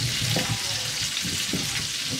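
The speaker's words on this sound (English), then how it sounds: "Kind of stir that in a little." Flour stirred into a pot of roast beef and vegetables, a steady sizzle with soft scraping stir strokes, close and continuous, no voices.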